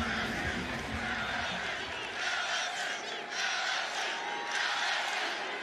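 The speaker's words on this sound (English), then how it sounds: "the LSU crowd has come alive here" Stadium crowd at an LSU football game roaring and cheering continuously, a dense sustained wall of voices with whoops and shouts rising over the din.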